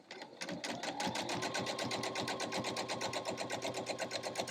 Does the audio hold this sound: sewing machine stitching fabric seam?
yes